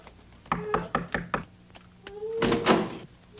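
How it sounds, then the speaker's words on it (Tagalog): Knocking on a door in a home, a quick series of five or six sharp knocks, followed by a louder muffled thump or rattle as the door is handled; fairly close, with no talking. "O, tingnan mo nga may kumakatok."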